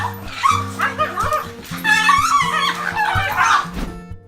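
Excited dogs greeting a soldier returning home, close repeated yips and high whimpers in quick bursts, with brief thumps of jostling bodies.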